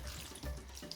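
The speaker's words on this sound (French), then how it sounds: "Et pour terminer, je rajoute un fond d'eau." Water poured into a pot of chili purée, a soft, steady trickling splash heard close up at low volume, with no talk.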